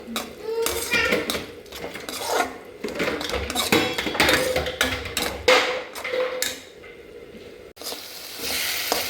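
Pumpkin halwa being stirred with ghee in a pan, soft sizzling under repeated scraping and clinking of a spoon against metal, with a voice talking throughout.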